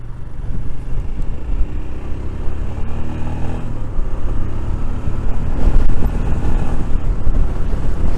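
Strong wind buffeting the microphone while riding a Royal Enfield Scram 411 motorcycle, a loud, continuous low roar that swells and eases throughout.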